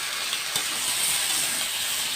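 Meat goes into a kadai of oil where onion, potato, bay leaf and spices have just been fried. It gives a steady, bright hissing sizzle, close and continuous, with no talking.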